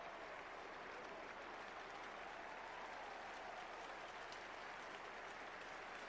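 Steady, faint applause from a cricket crowd in the 1970s greeting a boundary, a continuous wash of clapping with no talk over it.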